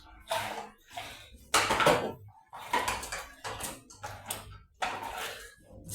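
Dishes are washed by hand in a basin without running water in a Kenyan home, with intermittent clinks, scrapes and sloshing clatters of plates and utensils coming in short, irregular bursts close by.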